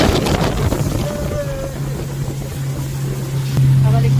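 A small outboard-powered boat drones steadily on open water, its engine hum rising near the end amid wind buffeting the microphone and voices talking.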